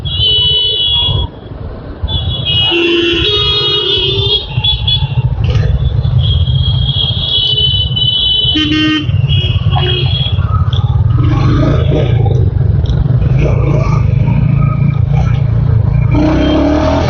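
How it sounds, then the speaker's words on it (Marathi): Busy road traffic with cars and motorcycles heard from a moving Royal Enfield Hunter 350, a loud continuous engine and road rumble with scattered honks and horn beeps layered over it. "एवढी जास्त ट्रॅफिक आहे आज काय माहिती."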